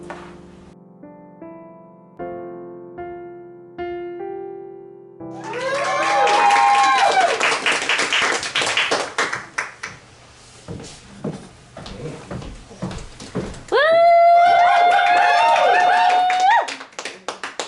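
Theatre audience at a staging of A Queer Christmas Carol claps in bursts between stretches of sung or spoken voice, the clapping rising to a dense wash and then thinning out.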